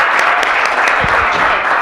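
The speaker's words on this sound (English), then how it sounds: "if I could have a wonderful round of applause for Steve" A conference audience claps to welcome a speaker to the stage, brief, dense and even applause at close range.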